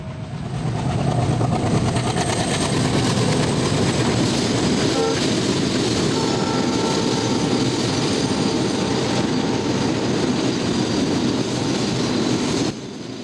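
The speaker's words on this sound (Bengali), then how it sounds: "অর্ধশত বগি নিয়ে শাঁসা শাঁসা করে ছুটে চলেছে মালবাহী ট্রেন" Loaded freight train of about fifty wagons at Santahar rail junction in Bangladesh, passing close by with a loud, steady rumble and wheel clatter that fills the whole stretch before easing at the end.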